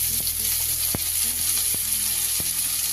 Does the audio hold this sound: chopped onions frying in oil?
yes